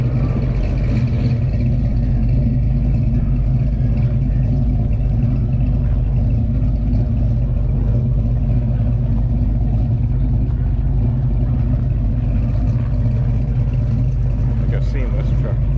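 Deep, steady rumble of a truck with a 440 engine and extended shackles idling at a large car show, a continuous throaty low drone with people talking nearby over it.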